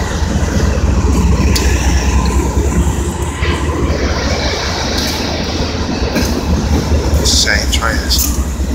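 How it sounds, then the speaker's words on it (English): A Norfolk Southern freight train hauled by seven locomotives rumbles past up close and loud, wheels clattering and squealing over the rails in a continuous heavy roar. "1, 2, 3, 4, 5, 6, 7 locomotives. Hey, that's 7 locomotives."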